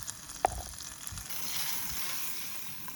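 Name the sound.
venison sizzling in a hot buttered pan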